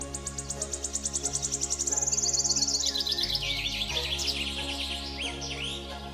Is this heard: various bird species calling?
yes